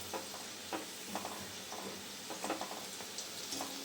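Bhajia fritters in batter fry in hot oil at a home gathering with friends, a soft continuous sizzle with occasional bubbling pops and scrapes, moderately quiet and with no talk.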